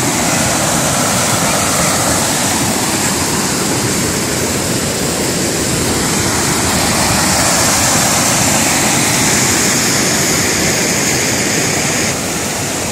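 Floodwater rushes over a river waterfall during a flood, a loud, continuous, dense roar filling the whole stretch without break.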